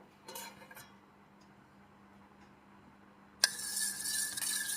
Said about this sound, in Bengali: এবার এর মধ্যে একটু ভালো করে মিশিয়ে নিলাম